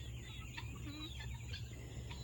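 Soft, scattered clucks from a few young, half-grown chickens close by, over a low steady hum.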